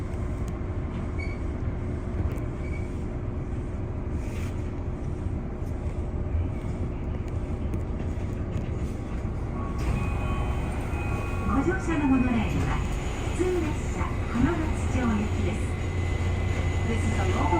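Inside a moving local passenger train in Japan bound for Hamamatsu, a steady low rumble of running noise continues throughout, joined midway by faint squealing tones, with people talking over it.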